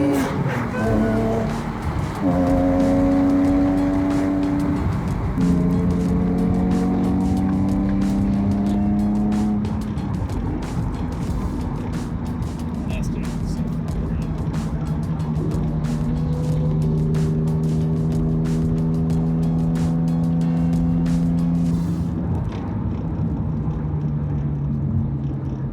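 Raspy car exhaust accelerating at a Cars and Coffee meet, repeated rising engine sweeps through several gear changes with a rasping edge, loud and close, ending in a lower rumble.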